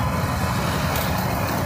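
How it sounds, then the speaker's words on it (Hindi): Busy street traffic with trucks and other vehicles idling and moving close by, a dense, steady low rumble filling the short stretch without speech. "तो देखो यहाँ हम ट्रैफिक पर खड़े हैं,"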